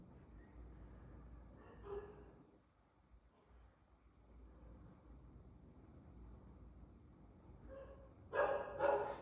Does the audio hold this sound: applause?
no